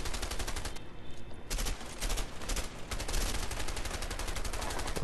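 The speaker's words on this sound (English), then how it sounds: "Got my LMG right here" A light machine gun fires in the co-op video game A Way Out, a loud, sustained burst of rapid automatic shots with a brief pause before the firing resumes and continues without letup.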